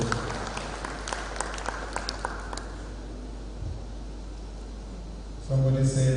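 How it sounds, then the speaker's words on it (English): Applause at an international labour arbitration and adjudication forum ripples through the hall with scattered claps that fade away, and a tone sounds near the end. "I think we should clap for both the lawyers and the judges in the house."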